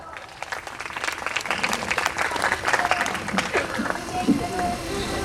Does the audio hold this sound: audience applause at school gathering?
yes